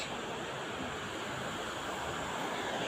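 Steady rushing water of the Sütüven waterfalls near Edremit, Turkey, roars continuously, a dense, even wash of noise heard from fairly close, with no voices.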